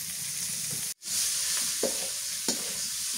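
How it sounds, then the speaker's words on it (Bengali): Cauliflower stir-fried with spices in a pan for a taki fish and cauliflower curry, giving a steady close sizzle with a couple of brief stirring scrapes and one short dropout. "কপিটা কষানো হয়ে গেছে"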